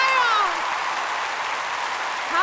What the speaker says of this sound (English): Clap your hands, everybody.